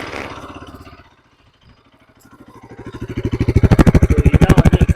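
A 2025 Bajaj Pulsar RS200 motorcycle idles with a soft, pulsing exhaust beat that fades briefly, then the revs climb into a loud, rapid, throbbing exhaust note close by with no talking.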